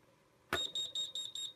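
A sharp click followed by five evenly spaced, high-pitched electronic beeps from a Type 4 fire alarm panel signaling a fault in zone 2, fairly faint against a quiet background.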